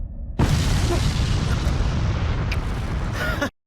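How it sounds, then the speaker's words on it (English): A loud, sustained explosion roar from an episode of the anime Jujutsu Kaisen season 2, starting abruptly and rumbling densely for about three seconds before cutting off sharply. "There's the explosion."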